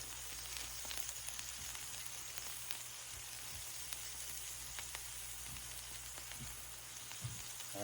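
Alligator meat cooking slowly on a Blackstone griddle, seasoned Cajun style with oregano, gives a steady, soft sizzle with scattered pops and crackles, close and continuous with no talking.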